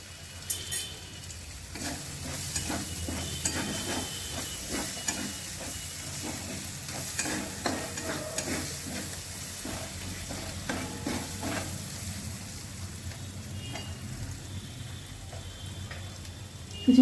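Spice masala cooks with butter and sugar in a pan for paneer bharta, giving a continuous close sizzle broken by regular scraping and stirring strokes throughout.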